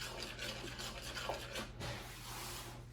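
Challah dough is stirred in a bowl, a quiet, continuous scraping and rubbing with a soft, sticky texture, close up and with no voices.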